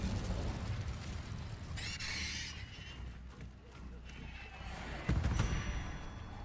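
A Confringo blast spell goes off in Hogwarts Legacy, a bright crackling burst followed later by a heavy boom, amid game effects and a speaking voice.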